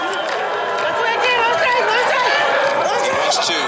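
Steady roar of a cricket stadium crowd at a Zimbabwe match, a dense, continuous babble of many voices rising slightly toward the end.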